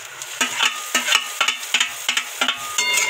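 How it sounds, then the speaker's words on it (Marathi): Tomatoes stirred into onions browned in a pan for pohe, with repeated scraping strokes of a spoon over a steady sizzle, close and fairly loud. "तर याच्यामध्ये आता आपण टोमॅटो टाकून घेणार आहे।"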